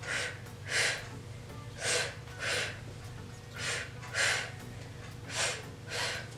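Rhythmic forceful exhales from a person doing an ab workout, eight sharp breathy bursts evenly spaced about every 0.7 seconds, close and fairly loud over a steady low hum.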